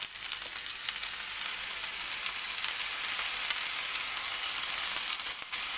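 Mushrooms and porcini mushrooms frying in a pan, a steady bright sizzle with a soft continuous hiss, fairly close and alone with no talk.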